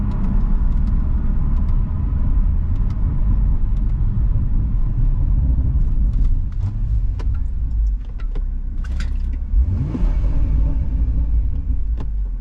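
Steady loud car engine and road rumble, reverberant and enclosed as the vehicle drives through a tunnel, with a brief passing swoosh near the end.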